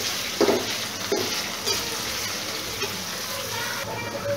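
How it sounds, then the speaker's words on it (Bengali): Onions frying in a pan with washed whole spices, giving a steady, close broadband sizzle with a few brief clinks and bumps of stirring throughout. "এগুলো পেঁয়াজের সাথে ভেজে নেবো"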